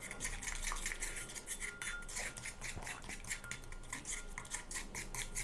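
Steady scraping and clinking as oil is stirred into a hair-care paste in a bowl, a continuous rhythmic rubbing of utensil against the bowl, close and moderately quiet with no talking.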